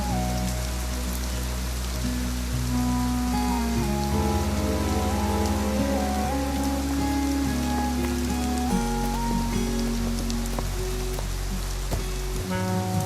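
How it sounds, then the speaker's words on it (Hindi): Heavy rain pours steadily on surfaces, a constant dense patter heard under a sustained musical score with shifting tones. "बारिश तेज से तेज होती जाती है"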